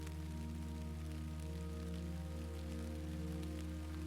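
Soft, steady rain falls as quiet ambience for a sleep story, a faint continuous patter over a low constant hum, with no voices.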